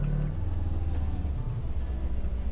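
A car engine in Ranch Simulator, a low steady velvety rumble idling and gently revving, close and continuous with no talk.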